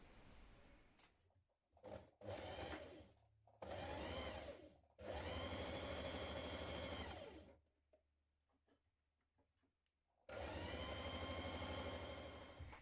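A sewing machine stitches a 1 centimetre blouse seam with a reinforced section, its motor whirring in several bursts of steady running separated by short pauses, close and fairly quiet.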